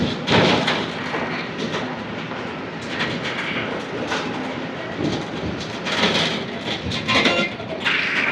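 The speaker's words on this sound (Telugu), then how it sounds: "railway track crossing" A bus bumps across a railway track crossing on a wet Andhra Pradesh road. A continuous rattling rumble is broken by several louder jolting thuds as the wheels cross the rails.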